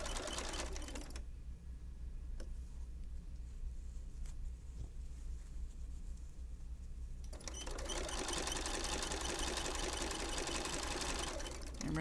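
A sewing machine stitches across a zipper bag in two loud, rapid buzzing runs with a quieter pause between them, a few faint clicks during the break.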